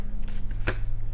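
A quick riffle of tarot cards being shuffled, a short papery flutter followed by a single sharp snap, over low background hum.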